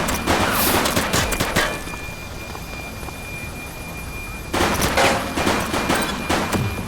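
Heavy gunfire in The Precinct video game, with loud close bursts of rapid shots at the start and again near the end and a sustained rumble in between.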